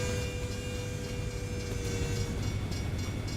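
Trains rumble steadily in a transport video game, a dense continuous roar with faint clicking and a constant tonal hum, close and unbroken with no talk.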